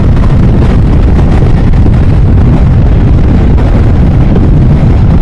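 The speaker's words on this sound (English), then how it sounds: "Oh man, it's windy." Strong wind buffets the microphone in a loud, continuous low roar that never lets up.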